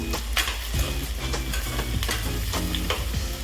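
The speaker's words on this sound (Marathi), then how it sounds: "असं कांदा आपण परतून घेऊया" Onions sautéing in a pan for chilli paneer, a continuous close sizzle with regular scraping stirs of a spatula and no voices.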